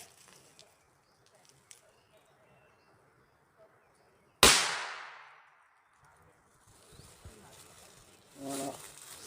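A single loud gunshot cracks outdoors and its echo rolls away over a couple of seconds, against a quiet background of faint insects and birds, with a brief muffled rustle near the end.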